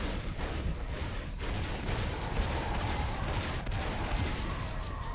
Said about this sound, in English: Ari is taking another shotgun blast and between 2 shotguns and just disintegrated